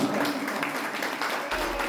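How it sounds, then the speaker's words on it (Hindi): An audience at a Punjabi poetry recital gathering applauds a poet, giving dense, continuous clapping at a steady moderate level. "तुसा दोस्तां दी भरपूर तालियां भी"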